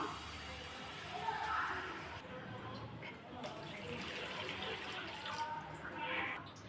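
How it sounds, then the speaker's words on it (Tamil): Water runs and splashes steadily into a cooking pot, a continuous gurgling pour with some clatter, no speech over it. "இப்போ இதில் ஒரு ரெண்டு கப் அளவு தண்ணி சேர்த்துக்கலாம்"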